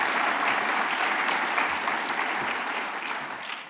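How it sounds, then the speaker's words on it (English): Audience applause for a composer and musicians at a wildlife conservation business forum: dense, continuous clapping from a crowd, steady and fairly even, fading slightly toward the end. "Can we give them another round of applause?"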